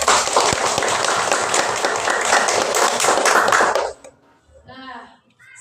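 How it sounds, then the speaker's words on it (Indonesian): An audience of children claps hands together in a classroom, a loud steady burst of applause lasting several seconds before cutting off into quiet with a few faint voices. "Tepuk tangan semuanya."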